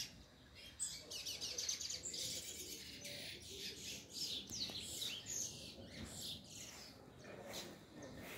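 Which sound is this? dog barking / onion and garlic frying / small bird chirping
small bird chirping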